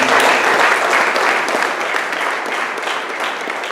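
A church congregation applauds steadily for several seconds during a Spanish-language service, a dense, loud wash of clapping that fades slightly toward the end.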